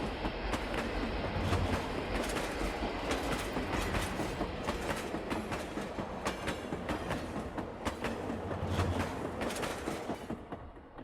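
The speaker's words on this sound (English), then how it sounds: "train passes by on his way to the yards where the train will be switched, sorted, and the engine will go in for servicing" A model railroad train rolls past on the layout's main line toward the yards, its wheels clattering in a steady, rhythmic clickety-clack that stays loud and close throughout, with no voices.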